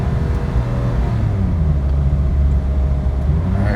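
A Lotus Esprit V8 accelerates at full throttle, its engine a loud, steady, low rumble heard from inside the car throughout.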